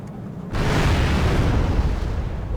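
A sudden blast from a bombardment in Wargame Red Dragon starts with a sharp onset, then a loud, rumbling roar that holds steady for a couple of seconds.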